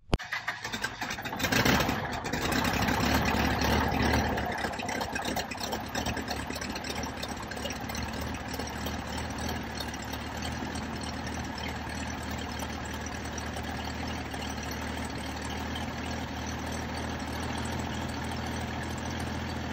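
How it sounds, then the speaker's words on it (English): A Bearhawk light airplane's engine runs steadily on its first flight, a loud continuous drone with a brief surge near the start, heard from close by and without talk. "we're just going to run the engine hard and fly in circles"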